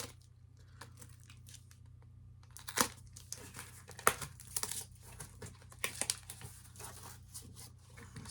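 A taped-up cardboard package being pulled and torn open, with scattered crinkling, ripping bursts and sharp tape snaps, fairly close, after a quiet start.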